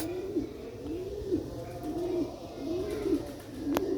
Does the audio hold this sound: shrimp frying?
no